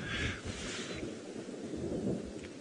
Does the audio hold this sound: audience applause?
no